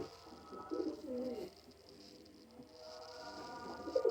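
A female Lakha pigeon held in the hand gives low, throaty coos in two short bursts, near and fairly quiet, over faint background hiss with no talk.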